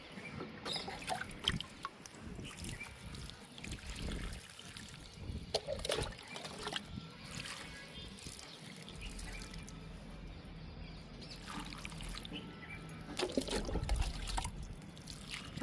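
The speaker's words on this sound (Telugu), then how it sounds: "కంపోస్ట్కి వాటర్ ఇద్దాము." Water is poured onto compost made from egg cartons, producing a soft, continuous trickle and dribble with intermittent splashes and rustles, close and fairly quiet, with no voices.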